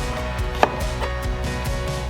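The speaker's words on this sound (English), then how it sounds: "Finally, chop 2 to 3 stalks of green onion." A knife chopping green onion stalks on a board for spring roll filling, a few sharp cuts with one distinct louder chop, over a steady low hum of kitchen background.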